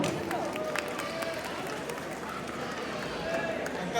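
Audience applause for a sung Bengali song at a spring-welcome and pitha festival gathering, a dense, steady wash of many clapping hands filling the whole stretch at an even level.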